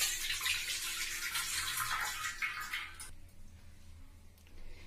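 Water pours continuously into a pot for about three seconds, then cuts off, leaving a quieter, sparse tail of drips and faint movement.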